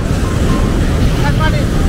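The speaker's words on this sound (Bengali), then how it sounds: "বড় বড় ঢেউ আসতেছে, একবারে পা ভিজাই দিচ্ছে।" Large waves breaking on a beach in Yala National Park, Sri Lanka, a steady close surf roar heavy with wind buffeting across the microphone.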